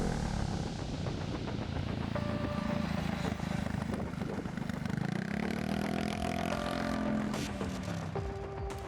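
Italjet Dragster 300cc scooter engine with CVT gearbox running on the road, a continuous buzzing drone with rising and falling revs amid wind and road noise.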